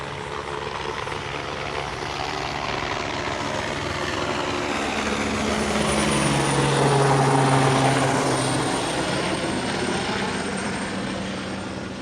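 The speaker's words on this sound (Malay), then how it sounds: "Unit udara helikopter PDRM juga telah beredar mengelilingi kawasan kepungan semula" A Malaysian police helicopter circling over a raid area; its rotor thumps and whirs overhead, swelling louder as it passes closer, then easing off slightly, with a steady engine drone throughout.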